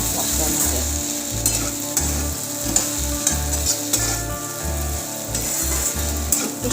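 Close, loud sizzling of okra frying with spices in a pan, broken by regular rhythmic scrapes and knocks of a spoon stirring, with no voices.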